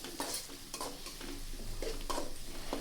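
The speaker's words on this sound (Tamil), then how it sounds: "சேர்த்துட்டு நல்லா ஃப்ரை பண்ணி விடுங்க" Sliced onions fry in a pan with an even close sizzle, broken by several sharp scrapes and clinks of a spatula stirring against the metal.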